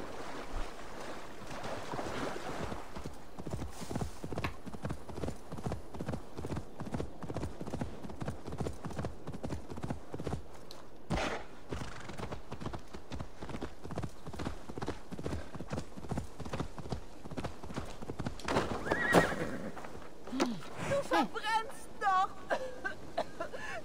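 Horse hooves in Assassin's Creed Valhalla clop in a steady, rapid rhythm for a long stretch, with splashing water noise underneath that grows more churning near the end.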